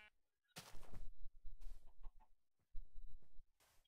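Chickens cluck in the video game Minecraft, a few short clucking bursts close by with sharp gaps of near silence between them and no talk over them.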